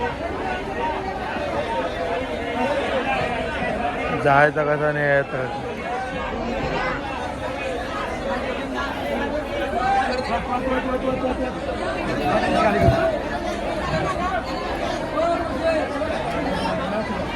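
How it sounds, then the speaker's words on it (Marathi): Dense crowd chatter fills the Bhaucha Dhakka fish market in Mumbai, many overlapping voices bargaining and calling out at close range, with a steady loud babble throughout and a few nearer voices rising above it. "मित्रांनो गर्दी बघा किती इकडं"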